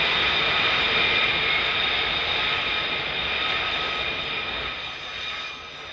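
A-10 jet aircraft at RAF Lakenheath roar with a loud, steady high-pitched engine whine and broad rumble, sustained throughout and slowly easing off toward the end.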